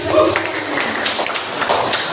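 An audience at a morning teacher training session on positive school culture claps together, a dense, steady patter of hands filling the room, fairly loud and continuous with a voice briefly mixed in.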